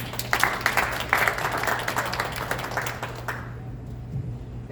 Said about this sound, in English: So help me to give you a round of applause and I welcome Victoria Vida to the podium.